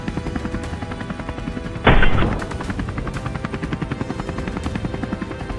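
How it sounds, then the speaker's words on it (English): A helicopter roars in flight over wild boar hunting ground, a steady loud rotor thrum throughout with rapid chopping pulses, and a sharp louder burst around the two-second mark. "The helicopter roared like a beast, soaring straight ahead."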